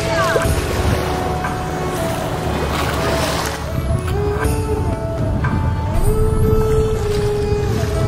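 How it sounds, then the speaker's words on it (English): Sailboat motoring at about four knots across a glassy calm sea, a steady engine drone with water wash and faint tonal hums, loud and continuous. "Steadily motoring at 4 knots on the glassy smooth seas"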